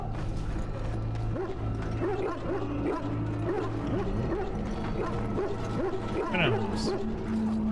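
Hounds bark and yip in a medieval army camp in Dragon Age: Origins, scattered barks and whimpers over a steady low drone and clanking ambience, moderately distant, with a brief rising tone near the end.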